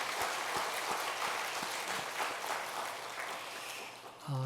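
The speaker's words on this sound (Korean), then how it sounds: "우리 하나님께 영광 박수 올려드리겠습니다" A church congregation at a Korean Sunday worship service applauds in a sustained, even wash of clapping that fades slightly, and a voice comes in right at the end.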